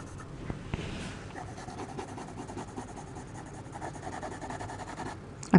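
A colored pencil shades lightly across paper in a steady, soft scratchy rubbing that runs unbroken, with no talking.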